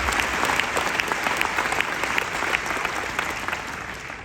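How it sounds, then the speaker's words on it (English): An audience at the EXPCON2022 motivational speaking event applauds, a dense, steady wash of clapping from a large crowd that holds for several seconds and fades slightly at the end. "Give that a round of applause."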